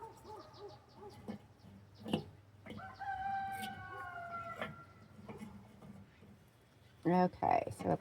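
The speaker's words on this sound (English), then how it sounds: "You hear the roosters" A rooster crows in a long drawn-out call outdoors, with other distant birds and clucking, and some voices nearby.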